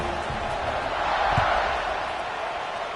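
A stadium crowd at a college football game in the NCAA 26 video game makes a steady, broad roar that swells slightly in the middle and holds throughout.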